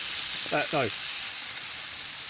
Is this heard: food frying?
yes